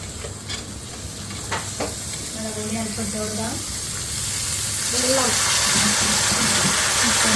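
Beans tipped into a hot pan crackle and sizzle in a home kitchen, a steady frying hiss that builds and thickens over several seconds with brief scraping stirs, close to the microphone.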